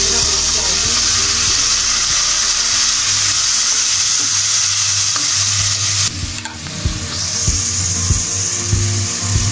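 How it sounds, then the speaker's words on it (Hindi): Steady sizzle of onions frying fills the clip, with occasional scraping and stirring clicks near the pan; no voices, just the continuous hiss of cooking. "प्याज फ्राई हो रहा है"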